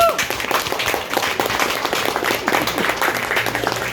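Audience applause at a Bulgarian party political event, dense broadband clapping that stays steady and fairly loud throughout, with voices mixed in underneath.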